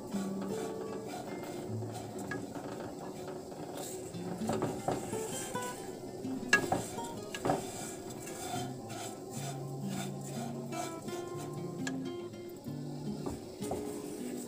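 Vermicelli being stirred and fried in a pan, heard as a spoon scraping and clinking against the metal in irregular strokes, quiet and close, with no voices.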